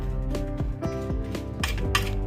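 Spoon clinking rapidly against a bowl while chopped onion is mixed with salt, coriander powder and other spices, a quick run of bright metallic taps alone and fairly close.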